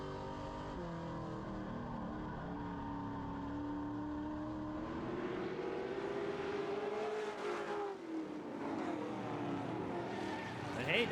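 Racing trucks roar around Magic Valley Speedway in a truck series event, a steady loud engine drone with rising and falling pitch as vehicles speed past, under continuous commentary.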